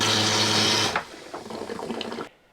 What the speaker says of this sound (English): that is rinsing all the vinegar out of the water heater